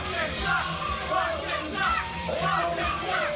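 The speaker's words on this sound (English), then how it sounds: "Crowd chanting against him," A wrestling crowd in Boston yells and chants in rising, rhythmic swells against a wrestler coming to the ring, a loud, dense roar of many voices in an arena.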